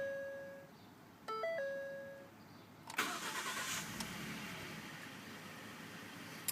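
A 2012 Ford F-150 with the 3.7L V6 chimes its warning tones, then the engine cranks and catches into a smooth, fairly quiet idle, heard close with no talking.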